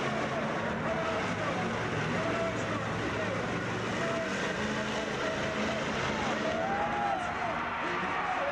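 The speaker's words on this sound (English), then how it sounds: "These two trucks will face each other in this crush-off." Vintage 1980s monster trucks racing at a crush-off event, a loud, continuous roar of engines and noise filling the whole stretch without pause.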